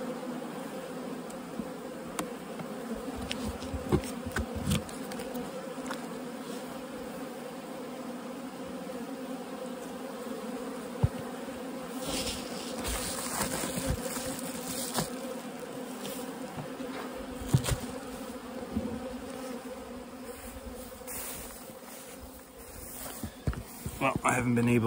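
Honey bees at an opened hive of a late-season bulk split give a quiet, continuous droning buzz, with a few faint knocks and rustles and a slight swell near the end.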